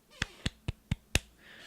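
Five quick, light claps in an even rhythm, a soft golf clap given after an eSports quarterfinal match, sharp and close but quiet.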